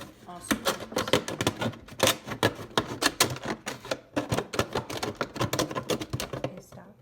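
Scissors snip through a plastic milk jug in a rapid series of sharp crisp cuts and crackles, close up, with short pauses between bursts.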